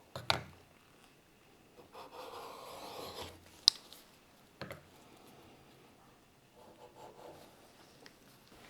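A steel chisel is rubbed back and forth on a sharpening stone, giving soft, faint scraping strokes broken up by a few sharp clicks and handling knocks.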